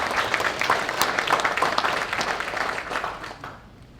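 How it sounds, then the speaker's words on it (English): An audience at a grazing and land management talk applauds to welcome a speaker to the stage, a dense, steady clapping that fades out toward the end. "Give him a big round of applause and make him feel welcome."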